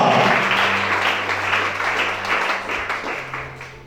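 Loud applause from a congregation during a French-language sermon, a continuous clatter of hands over a low steady hum, gradually easing off toward the close.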